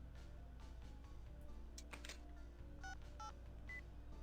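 A phone being dialed in the game Shin Megami Tensei: Devil Survivor Overclocked, a series of distinct, clean keypad tones spaced irregularly over a low steady background hum, with no voices.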